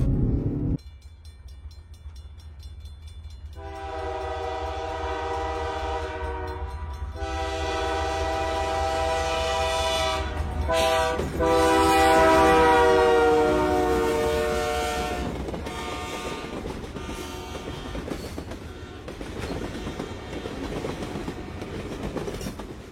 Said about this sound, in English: Train is just coming around Big Ten curve.